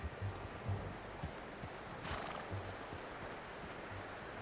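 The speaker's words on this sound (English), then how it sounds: "It's our horse." A horse in Red Dead Redemption 2 snorts and shifts, with soft hoof thuds recurring in a loose rhythm, close but quiet, and a brief whinny-like burst in the middle.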